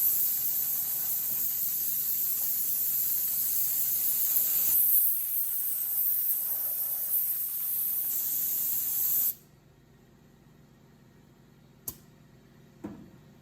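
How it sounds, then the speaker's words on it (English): Steady, loud hiss of spray glue from an aerosol can onto a Ford pickup's floor during upholstery work runs for about nine seconds, then cuts off, leaving near silence with two faint clicks. "start spraying this stuff in."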